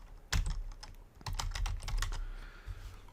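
Keys clatter on a computer keyboard in close, quick bursts of clicks separated by short pauses, with no talking.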